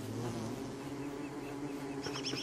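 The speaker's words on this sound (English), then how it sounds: "There are a lot of bees around here, should we be worried?" Bees buzz in Don't Starve Together, a steady, close, low droning hum that continues throughout, with a brief higher chirping layer near the end.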